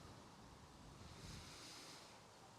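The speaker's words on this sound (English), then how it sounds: "But man, it's fucking windy as fuck here." Strong wind gusting outdoors and buffeting the microphone, a steady broadband roar with low rumbling thumps, continuous and close, no voices.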